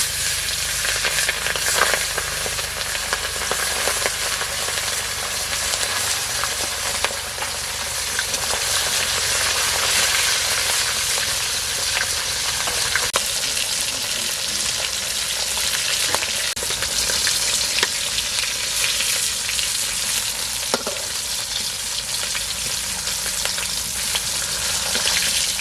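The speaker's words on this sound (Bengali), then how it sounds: "ভাজার জন্য মাছটা দিয়ে দেবো।" Sea fish (khoira) frying in hot mustard oil in a pan with whole spices, a continuous loud sizzle and crackle with spitting pops that holds steady and close throughout.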